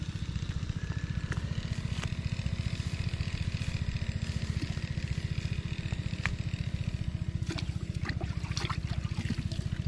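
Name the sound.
water being poured out in a rice field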